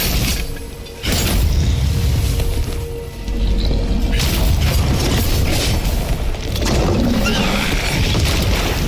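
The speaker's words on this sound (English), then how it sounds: "Explosion." Loud, booming explosions from the video game The First Berserker: Khazan burst in around the one- and three-second marks, then roll on as a dense, sustained rumble with no talk.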